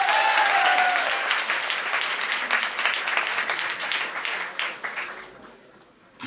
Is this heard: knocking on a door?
no